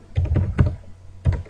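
Keystrokes on a computer keyboard while restoring a SQL Server 2005 database, a few close bursts of typing separated by a short pause.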